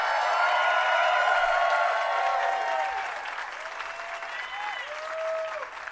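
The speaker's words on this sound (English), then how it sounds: "How about a big round of applause for Weird Al Yankovic?" Dense crowd applause and clapping rings out for Weird Al Yankovic at his Hollywood Walk of Fame ceremony, loud and sustained at first, then easing slightly with faint cheering and a bit of background murmur.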